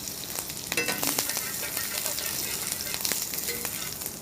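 Finely chopped green chillies sizzle in hot desi ghee with a cumin tadka, a steady close-up frying crackle with scattered sharp pops lasting the whole moment, no voices.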